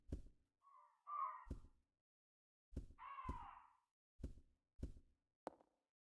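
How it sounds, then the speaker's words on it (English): Crows in the Resident Evil 0 HD video game give several harsh caws, isolated bursts spread across a few seconds and separated by silence, some sounding closer and louder than others, with sharp knock-like onsets and no talking. "I don't like hearing crows in RE games because it never works out well,"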